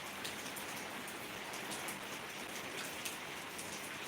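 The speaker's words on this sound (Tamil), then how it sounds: "மழை வந்து பெய்கிறது சும்மா லைட்டாக ஒரு தூறல் தான் போடுது" Light drizzle falling steadily on surfaces, a soft, even patter of fine raindrops that stays quiet and unbroken throughout with no voices.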